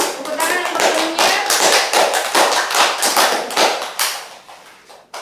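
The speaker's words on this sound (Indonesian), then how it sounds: "tepuk tangan untuk gurunya" Students in a classroom microteaching lesson on the Pythagorean theorem give their teacher a round of applause, a steady, close patter of many hands clapping that runs for several seconds before tapering off.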